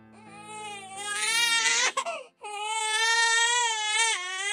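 A hungry infant cries loudly and continuously in sustained, wailing sobs with a brief catch of breath midway, close and alone, without talk.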